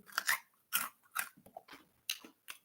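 Repeated crisp crunches of someone biting and chewing a crunchy Colombian snack made from pandebono ingredients, about six close, distinct bursts with silence between.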